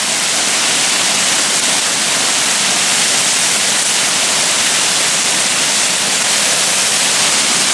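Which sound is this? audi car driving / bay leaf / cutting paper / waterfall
waterfall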